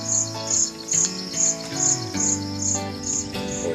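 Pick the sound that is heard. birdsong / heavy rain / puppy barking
birdsong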